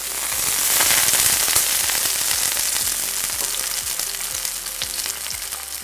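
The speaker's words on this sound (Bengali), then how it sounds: "প্রচণ্ড উত্তপ্ত কড়াইতে অল্প তেলে দ্রুত নেড়েচেড়ে ভাজাই হল স্টার ফ্রাইং।" Vegetables stir-fried with a little oil in a very hot wok, a loud, dense crackling sizzle with sharp popping spatters that swells early and keeps up steadily, close and without talk.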